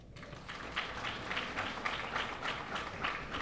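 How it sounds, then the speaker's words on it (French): Audience applause at a World AIDS Day ceremony with dignitaries present, a steady wash of clapping in a large room, fairly soft and even, rising slightly in pulses. "Vos applaudissements, s'il vous plaît."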